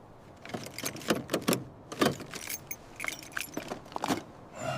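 Keys from an abandoned police Ford recovered from a swamp jangle close by in a quick series of bright metallic rattles, clustered in short bursts against a quiet background.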